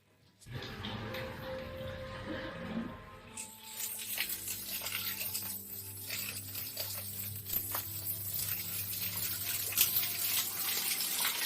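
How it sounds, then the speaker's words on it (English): Water running through an underground cave beneath Jerusalem, a steady splashing, pattering flow that starts abruptly and grows brighter and fuller, echoing continuously without talk. "the water that keeps running through the cave where we are also going now"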